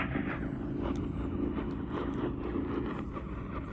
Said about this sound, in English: I think it's jamming of Republic of Yemen radio.